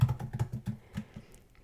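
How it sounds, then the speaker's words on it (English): Keys clatter on a computer keyboard in a quick, close burst of taps that slows to a few scattered strokes, with no voices. "then I'm going to type the word feet and remaining inches"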